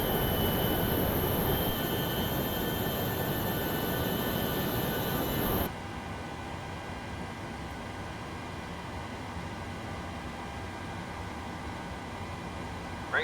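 Boeing 737-800 in a flight simulator during pushback and engine start: a steady, loud broadband engine roar that drops abruptly to a lower, even hum about halfway through, with no talking.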